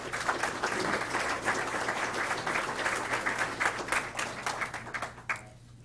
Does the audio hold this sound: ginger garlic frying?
no